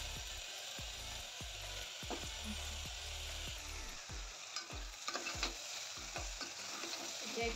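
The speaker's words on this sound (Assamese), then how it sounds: "এতিয়া এইখিনি ৰঙচুৱা হোৱালৈকে ভাজি ল'ম।" Rice with onion and vegetables fries in a pan, a steady sizzle broken by repeated scraping and knocking of the stirring spoon in an uneven rhythm, close and fairly loud, with no talking.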